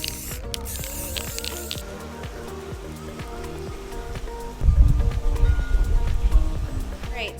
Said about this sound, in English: I decided to try to spray paint it instead.